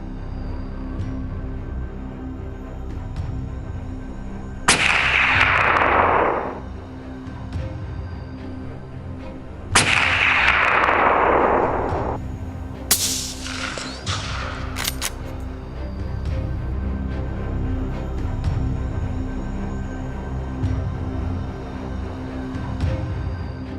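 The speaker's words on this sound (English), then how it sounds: "For the most accurate shots, hunters use rifles such as the .2223 Remington." Three sharp gunshots from a .223 Remington hunting rifle, evenly spaced and loud, each with a long decaying echo, the last followed by quick clattering reports, over a steady background hum.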